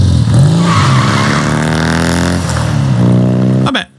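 Motorcycle speeding and skidding in the video game Uncharted 4, a loud sustained engine roar with rising and falling pitch and tire squeal, cutting off abruptly near the end.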